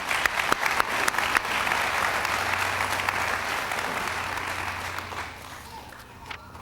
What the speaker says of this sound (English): So each member of that GED team deserves a round of applause.